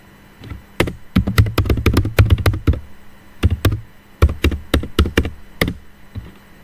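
Computer keyboard keys clattering as commands are typed for a CCNA network lab, bursts of quick close taps in two runs separated by a short pause, no talk.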